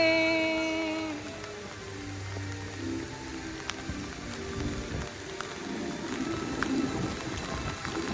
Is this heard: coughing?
no